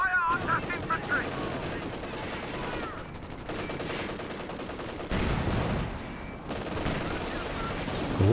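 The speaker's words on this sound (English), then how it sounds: "AT gun come through the center from Orangepest" Dense gunfire from a Company of Heroes battle, including an anti-tank gun, rolls on continuously with overlapping bursts and heavy thumps, loud and busy throughout.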